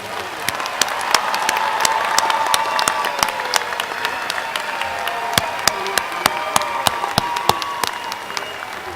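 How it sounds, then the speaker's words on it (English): An audience applauds College of Education graduates at a December commencement ceremony, a broad sustained wash of many clapping hands with crisp individual claps standing out, moderately loud in a large room. "Please join me in applause for the graduates from the College of Education."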